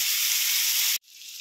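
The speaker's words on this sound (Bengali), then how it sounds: "আলুর দমটা আমার ভাজাভাজি চলছে" Potatoes frying in hot oil for aloo dum, a loud continuous sizzle that cuts off abruptly near the end, then resumes more quietly; no talking.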